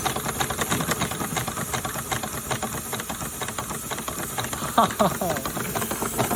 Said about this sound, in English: This is the first time this engine's ran under steam in probably 5 years.